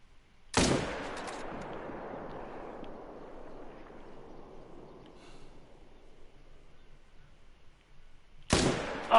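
Two hunting rifle shots at a whitetail deer in a hunting video game, each a sharp loud crack; the first rolls into a long fading echo across open terrain, and the second comes about eight seconds later.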